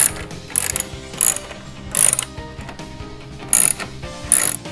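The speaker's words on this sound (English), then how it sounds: "Now I've got a 10 millimeter socket. I'm gonna remove these 4 bolts." A ratchet fitted with a 10 mm socket backs out the grille bolts on a Ford Bronco, giving quick bursts of close, bright clicking in an uneven rhythm, separated by brief pauses, with no speech.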